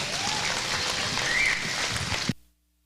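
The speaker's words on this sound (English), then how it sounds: "Let's give Kendall and all of these exhibitors a big round of applause." Audience applause at the Rodeo Austin livestock show market steer drive, steady broad clapping from the crowd in an arena that runs evenly and then cuts off abruptly.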